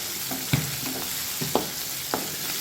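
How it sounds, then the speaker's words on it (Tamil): Ginger garlic paste sautés in a pan with a steady soft sizzle, and a few distinct stirring scrapes sound close up, with no one talking. "இந்த இஞ்சி பூண்டு வாசனை தான் கொஞ்சம் நேரம் நம்ம வதக்குவோம்."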